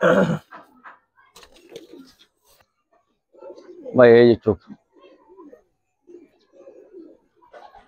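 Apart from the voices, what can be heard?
Giribaz pigeons cooing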